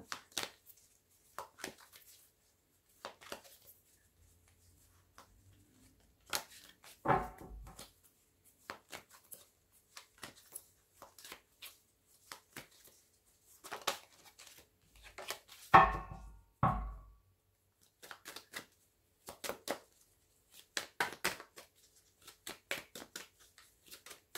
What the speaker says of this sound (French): On va bien mélanger pour pas avoir les mêmes cartes du jeu précédent.